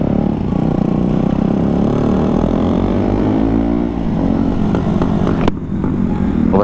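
A KTM Duke 125 motorcycle engine drones loudly up close as it rides, its pitch rising and falling with throttle changes.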